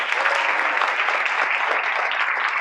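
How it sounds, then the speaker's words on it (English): Cadets applaud themselves at a camp closing ceremony, a loud, continuous roar of massed clapping that holds steady throughout without breaks. "Give yourself a round of applause"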